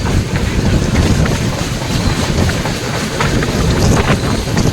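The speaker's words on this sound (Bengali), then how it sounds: "তোমরা দেখতে থাকো ওই যে ট্রেনটা আসছে" A train arriving at a station rumbles past close by with a loud steady roar, rattling wheels and some wind buffeting throughout.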